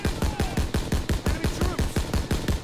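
Rapid automatic gunfire in the World War II shooter game Call of Duty WWII, a steady rhythm of about four loud, close shots per second sustained throughout without a break.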